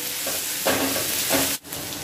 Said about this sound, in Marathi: 2 मिनिटं आपल्याला हे छान परतून घ्यायचं आहे हाय फ्लेमवरच